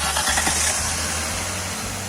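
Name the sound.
car engine running to check pulley bearing noise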